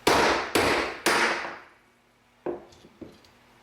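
A hammer strikes a Pepetools disc cutter to punch out a metal washer: three loud ringing blows in steady rhythm, a pause, then two lighter taps.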